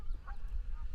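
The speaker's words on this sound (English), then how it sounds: "you hear the geese" Canada geese honk at a distance in Germany, a couple of short nasal calls rising faintly above a low outdoor rumble.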